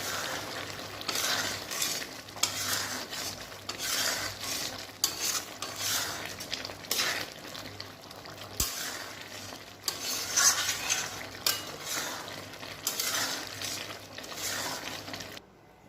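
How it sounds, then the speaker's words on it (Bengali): Cholar dal with ghee and garam masala being stirred in a pan, a steady run of scraping strokes over gentle sizzling, with rhythmic bursts and one sharp knock near the middle. "ঘিটা দেব, এবার ভালো করে নাড়িয়ে চাড়িয়ে নামিয়ে নেব"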